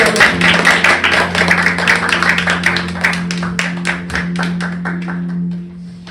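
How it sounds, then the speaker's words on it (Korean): A church congregation gives an enthusiastic welcoming round of applause for a pastor, loud close clapping with individual hand claps standing out, then thinning and fading near the end over a steady low hum. "같이 격렬히 환영의 박수를"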